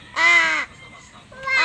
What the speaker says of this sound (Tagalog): May uwak po, oh.